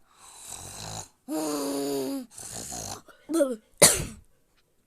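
A person snores loudly in a few drawn-out rasping bursts, then lets out a couple of short coughs near the end, close to the microphone with no other sounds.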